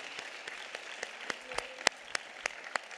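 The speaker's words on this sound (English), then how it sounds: "Please give them all a round of applause." Applause at a Los Angeles County Board of Supervisors meeting, a thin, fairly distant patter of a few people clapping, with scattered louder individual claps standing out over the steady smatter.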